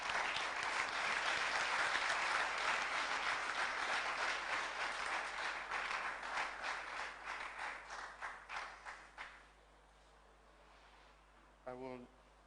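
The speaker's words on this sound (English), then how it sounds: "Let's clap for them." An audience at a church synod session gives a long round of applause after a talk on youth and children's ministry. The clapping is dense and steady, then thins into scattered claps and fades out.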